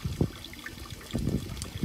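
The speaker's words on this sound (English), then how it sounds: "Trying to fill up a bucket." Water running into a bucket for chickens outside, a soft irregular trickle and splash with low gurgling bursts, fairly faint and close.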